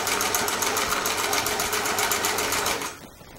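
A Singer 348 sewing machine stitches a triple zigzag seam with a fast, even, close-up whir that holds steady, then stops abruptly near the end, leaving faint room tone.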